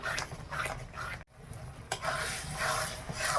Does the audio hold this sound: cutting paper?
no